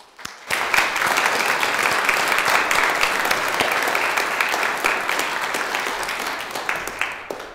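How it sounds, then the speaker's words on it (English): A church congregation at a Lutheran service breaks into a round of applause. The clapping is steady and fills the room for several seconds, then tapers off slightly toward the end. "would you give God the glory for these people with a round of applause?"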